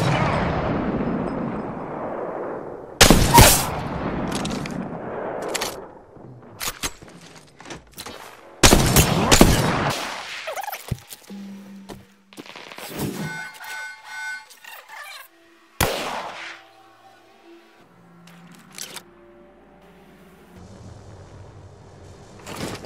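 Bursts of gunfire in an Apex Legends match crack out loudly in several separate volleys, with sharp broadband shots, echoing tails and quieter game sounds and effects between them.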